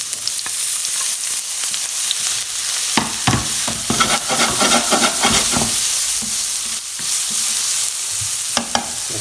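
Finely chopped onion with sweet chili fries loudly in a pan for a chickpea and potato curry, a steady close sizzle with scattered sharp crackles and spoon scrapes throughout.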